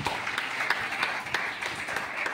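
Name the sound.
audience clapping for keyboard players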